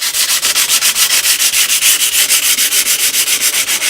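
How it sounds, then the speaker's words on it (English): Sanding the beveled edge of a painted NuTone Deluxe 8-inch patio speaker grill, lifted slightly off a workbench: a loud, steady back-and-forth rasp in quick, even strokes, about five per second, close up with no talking. "And you can sand the edge."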